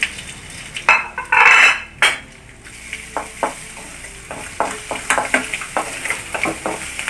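A utensil scrapes and clinks against a pan in a series of quick strokes over faint sizzling, with a louder rasping burst early on.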